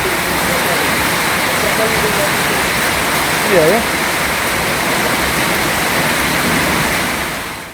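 Floodwater rushes in a continuous, dense roar through flooded streets in Pekanbaru after days of rain, loud and close, with a brief voice speaking midway.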